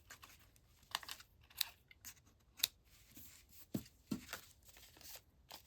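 Scissors snip through cardstock for a handmade stamped greeting card, a few soft separate cuts and crisp paper crinkles spread across a quiet tabletop, close but faint.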